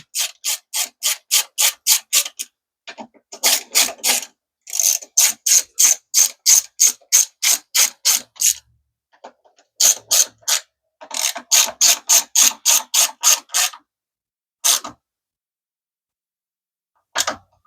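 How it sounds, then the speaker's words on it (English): Rapid clicking of a ratchet driver with a T27 bit snugging carburetor screws on a Husqvarna 350BT blower, heard as repeated bursts of crisp clicks with short pauses between them, close and alone. "we're going to easily snug these up a little bit at a time"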